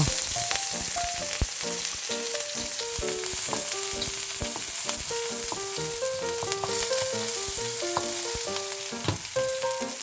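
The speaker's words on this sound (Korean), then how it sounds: "미리 달궈진 팬에 고추기름을 붓고 파, 마늘, 고추를 넣어 살짝 탄내가 날 정도로 볶아주세요." Green onion, garlic and chili stir-frying hard in hot chili oil for mapo tofu, a loud, dense, unbroken sizzle close up, with a light melodic tune playing underneath.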